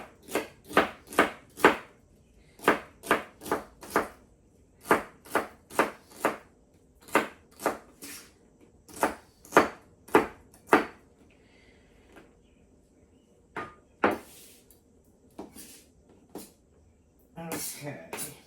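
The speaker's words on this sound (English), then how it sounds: "with the onion, celery, and green peppers. I will chop them into small pieces" Knife chopping onion, celery and green peppers into small pieces on a board, sharp rhythmic taps in quick bursts with short pauses, close and clear, with no talking.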